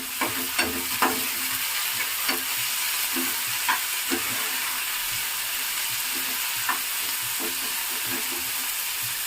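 Potatoes fry in oil in a pan, a loud, steady sizzle punctuated by regular scraping strokes of a spatula stirring them, close up and with no talking.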